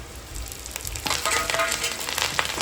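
Fenugreek seeds, onion and curry leaves hit hot oil while tempering for a fish kuzhambu. A quiet crackle breaks into a dense, close sizzle about a second in and keeps hissing steadily with small pops.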